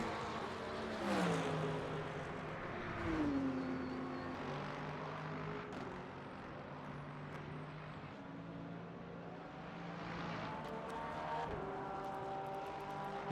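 A Porsche race car in a racing game at the Algarve circuit rolls toward the pit, its engine droning with rising and falling gear-shift sweeps, steady and moderately close, with no speech.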